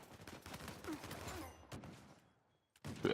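Gunfire in Uncharted 4 Survival mode on the Pirate Colony stage, a sniper rifle shooting blind: bursts of shots and impacts at mid distance, then a short lull before a louder burst at the end.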